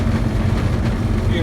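A loud truck engine labours uphill in a constant low, rumbling drone that fills the whole moment, with no break in the noise.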